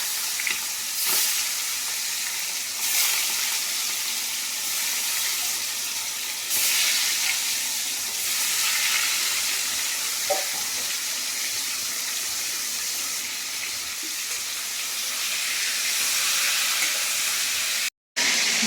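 Hilsa fish rubbed with salt and turmeric frying lightly in a pan, giving a steady, close sizzle and hiss of hot oil that runs throughout with small pops and spatters.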